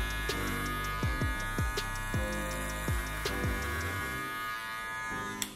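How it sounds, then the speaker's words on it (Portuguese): Electric hair clipper working up the side of a man's head during a fade haircut, a steady close buzz with short rhythmic sweeping strokes throughout, no talking. "Subindo reto com a máquina."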